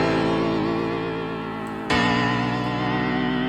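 Sustained music or tone processed through an RC20 plugin wobble effect, wavering pitch with a thick, warbling texture, loud and continuous, with a sudden jump in brightness partway through and no talking.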